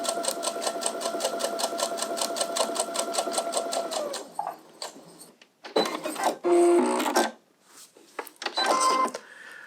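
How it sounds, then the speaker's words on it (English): A sewing machine stitches patchwork fabric in a fast, even run of clattering needle beats, then pauses and restarts in shorter bursts, close and clear with no talking. "I'm now just going to sew."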